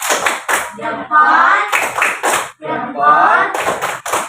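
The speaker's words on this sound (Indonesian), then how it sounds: "kasih tepuk salut dulu untuk kelompok September" A classroom of students claps hands in a patterned Indonesian 'tepuk salut' cheer, mixed with voices chanting along in unison between the claps.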